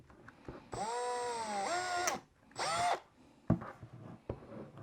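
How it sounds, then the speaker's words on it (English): A cordless drill bores out a bung on a Makita 18 volt DUB182Z blower, two close whining bursts of motor spin with a pitch dip under load, followed by faint knocks and handling clatter. "nothing a drill can't fix, really, so let's drill it out"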